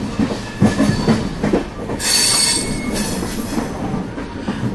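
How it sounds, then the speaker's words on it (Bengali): A train lurching into motion as an audiobook sound effect, with rumbling wheels and rail clatter building into a loud, steady roar with a bright metallic squeal of the wheels partway through, close and with no voices. "ট্রেনটা দুলে উঠে চলা শুরু করল"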